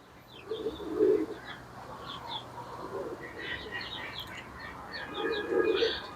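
Chinese teddy pigeons coo in soft, low murmuring bursts, with a few high chirps and twitters around them, moderately close in a quiet coop.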